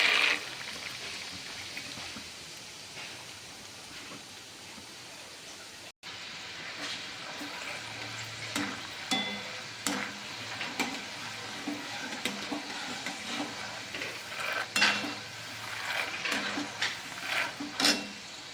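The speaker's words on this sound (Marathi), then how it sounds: "आता आपण शेंगदाणे तळून घेणार आहोत" Peanuts fry in hot oil for a corn chivda, a continuous hiss and sizzle with scattered crackles and occasional stirring scrapes, close and fairly steady throughout.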